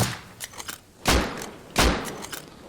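Two sharp, loud gunshot bursts in the survival game Rust, spaced about a second apart, with fainter distant pops and clicks between them and no talk.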